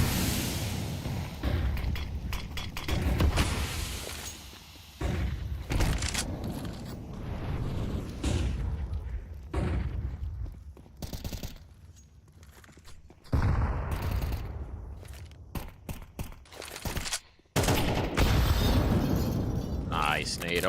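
Grenade blasts and bursts of gunfire in a professional Counter-Strike esports match, dense and continuous with loud booms and rapid shots, while a caster talks over the action throughout.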